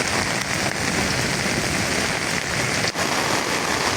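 Heavy rain pours steadily over a village, a dense, unbroken hiss of drops striking surfaces close by, loud and constant with no voices.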